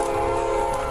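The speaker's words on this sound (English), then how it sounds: "They can only watch as the train barrels down on the squad car, parked on the train tracks." A train barreling down the tracks toward a police squad car parked across them, a loud steady rumble with sustained horn-like tones throughout, close and continuous.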